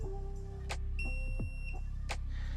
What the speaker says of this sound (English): Then you hear that long beep at the end of the 10th one.